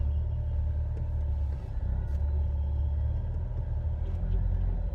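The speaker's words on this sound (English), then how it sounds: "go ahead and cut me off there, giant truck" A large truck rolls past on the road, a loud continuous low rumble heard from inside a car, steady throughout with no talking.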